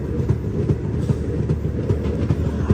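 A train on the Srinagar to Banihal line runs through snow, with a steady rumble and rhythmic clickety-clack of wheels over rail joints, heard from inside the carriage and without talk.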